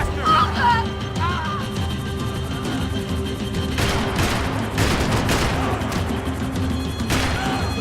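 Bursts of gunfire crackle through a shootout in the video game Max Payne 3, with rapid volleys and impacts clustering in the later seconds amid shouting and game noise.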